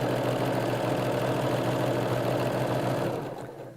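A sewing machine runs steadily while stitching around a fabric seam, a continuous dense motor whir with fast needle rhythm, close and loud, that winds down near the end as the stitching stops.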